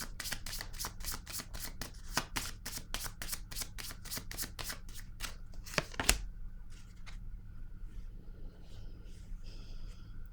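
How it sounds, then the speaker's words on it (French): A deck of playing cards is riffled in a quick run of crisp, evenly spaced flutters, then one card is drawn out, followed by a few faint soft rustles in an otherwise quiet room. "Je vais piger une autre carte."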